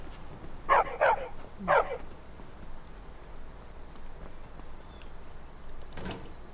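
A dog in Skyrim gives three sharp barks close by, two in quick succession and then one more, before quiet ambience and a faint later thud.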